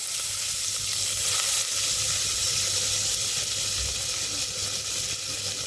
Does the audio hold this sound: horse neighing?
no